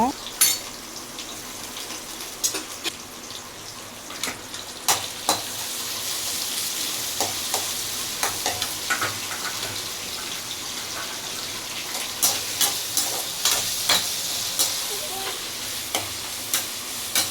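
Black pepper and cumin frying in oil for a goat intestine curry (kudal kuzhambu), a steady close sizzle that runs throughout and is punctuated by sharp clinks of a utensil against the pan at irregular intervals.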